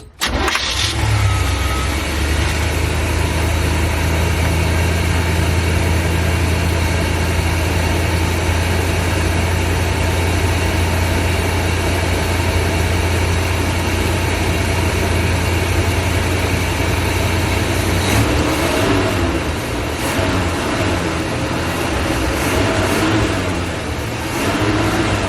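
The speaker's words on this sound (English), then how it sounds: "I'm just gonna run the engine and then use this carburetor spray cleaner and spray it right into the carburetor while I'm revving it" A 1980s RV engine runs loudly and steadily with its carburetor being sprayed with cleaner, holding a deep, continuous drone that shifts and roughens near the end as the throttle is worked.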